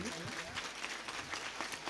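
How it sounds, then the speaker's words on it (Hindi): An audience at a live musical Manas recitation gathering in a village claps for a singing troupe, a steady dense applause heard under someone speaking over a microphone. "जोरदार ताली बजाओ इस मंडली के लिए।"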